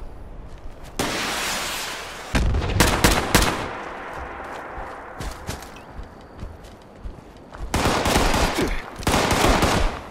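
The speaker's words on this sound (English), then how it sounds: "Stop shooting me. Stop shooting missiles at me" Gunfire and missile explosions in the video game Fallout 76 come in loud, rapid bursts of shots and blasts, with quieter gaps between volleys.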